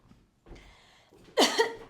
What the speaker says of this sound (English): You guys, you got to give me a second, because I'm about to cough.